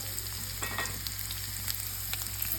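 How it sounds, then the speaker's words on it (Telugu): Chopped onions with a little turmeric fry in a pan, giving a steady moderate sizzle up close, with a low background hum and light crackles and stirring ticks. "ఉల్లిపాయ ముక్కలు వేసుకొని అందులో కొద్దిగా పసుపు,"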